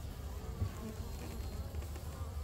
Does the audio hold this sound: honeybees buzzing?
yes